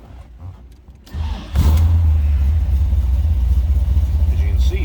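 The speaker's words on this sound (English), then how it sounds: "let's go ahead and fire this up. Take a listen to that 350 underneath the hood" A 1970 Chevrolet Corvette's 350 V8 cranks briefly and then catches, settling into a deep, loud idle rumble that continues steadily to the end.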